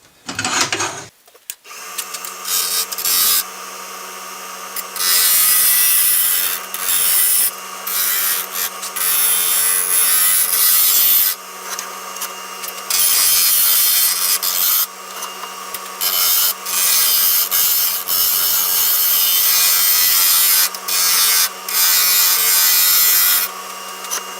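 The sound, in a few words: spindle gouge shaping wood on a lathe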